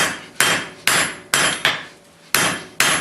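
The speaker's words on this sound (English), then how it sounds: "just going to forge down the end slightly on this one" Hammer blows forging down the end of a bolt jaw tongs blank, six sharp ringing strikes in a steady rhythm with short decays between, loud and close with no talk.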